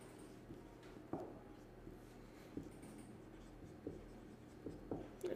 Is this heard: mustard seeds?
no